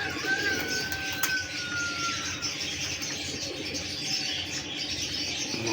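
Imamdeen breeder pigeons cooing softly nearby, low repeated coos under a noisy background, with a thin high call near the start and no talking.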